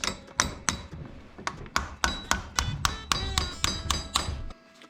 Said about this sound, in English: we're gonna use that punch to hit that pin back in the hole